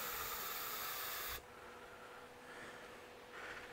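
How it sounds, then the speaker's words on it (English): A loud, steady hiss of carb cleaner sprayed from an aerosol can into a cup, lasting over a second, then it cuts off abruptly, leaving quiet room noise with faint short hisses. "I'm going to spray some carb cleaner"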